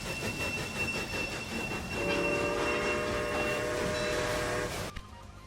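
A train runs in Railway Empire, set crossing the Andes, with a loud rolling rumble and rhythmic rail clatter, then a sustained horn tone joins before the sound cuts off abruptly near the end.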